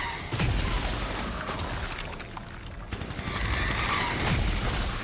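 Rapid machine pistol fire in the video game Anthem, sustained bursts of sharp automatic shots crackling close and loud, with a brief lull midway before firing picks back up.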